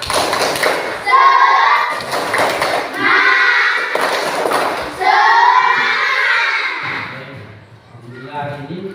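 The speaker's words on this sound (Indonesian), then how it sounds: "Tepuk semangat." Schoolchildren in a classroom do a spirit clap, rhythmic bursts of hand claps mixed with loud chanted voices, repeated in several close, energetic rounds.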